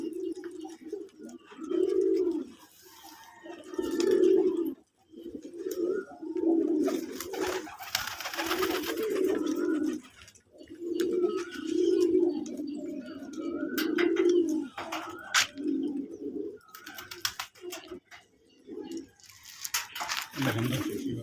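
Young domestic pigeons in a backyard loft coo in repeated soft, rhythmic calls, close and clear, with occasional chirps and rustling and a person talking at times.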